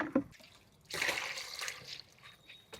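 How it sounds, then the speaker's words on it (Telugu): Water is poured to fill a container for watering garden plants, a brief trickle at the start followed by a louder splashing pour that fades, close and without talk. "పోసి దీని నిండా నీళ్ళు నింపేసి వేస్తాను"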